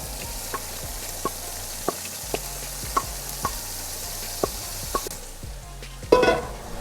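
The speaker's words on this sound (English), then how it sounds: "we need to saute the other half on the vegetable" Vegetables sautéing for Colombian tamales give a faint, steady sizzle in a pan, punctuated by regular sharp taps of a utensil against the pan and a louder clatter near the end.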